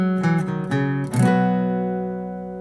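An acoustic guitar strums a short opening chord sequence of a song, ending on a G; each chord rings out, the last left to sustain and fade on its own.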